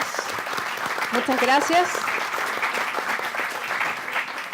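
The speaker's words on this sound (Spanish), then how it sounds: "Démosle un aplauso a este panel." Audience applause for a renewable-energy panel in a Chilean auditorium, a steady wash of clapping running through the clip while someone speaks over it briefly.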